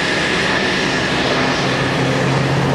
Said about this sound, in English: As Dale Snodgrass does a beautiful barrel roll over show center, right over top.